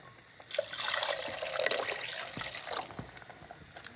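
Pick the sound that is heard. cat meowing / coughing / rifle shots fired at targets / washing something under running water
washing something under running water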